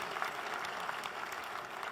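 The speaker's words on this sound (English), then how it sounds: "a big round of applause for the successful people sitting here" Audience applause at an IBA anniversary event fills the room, a dense, even wash of clapping from many hands, sustained without breaks.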